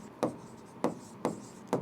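Marker or chalk strokes on a board as names are written, four short scratchy bursts spaced about half a second apart, close and fairly quiet, with no talking.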